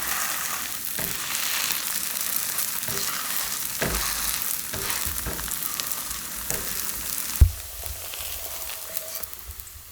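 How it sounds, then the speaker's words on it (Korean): Steady sizzling of grated aged pumpkin pancake batter frying in a pan until golden, with occasional soft taps and scrapes, close up and continuous. "약간 노릇노릇하게 구워야지 맛있어요."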